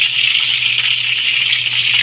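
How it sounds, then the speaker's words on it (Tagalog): Water rolling at a boil in a cooking pot before bok choy is blanched, a steady broad rushing hiss with a low constant hum underneath, continuous and fairly loud with no voices. "kumukulo na yung ating tubig"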